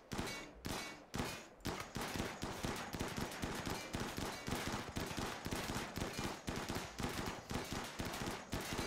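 Turrets in RimWorld fire rapid gunfire, with dense bursts of shots in a steady, relentless rhythm that is loud and continuous throughout.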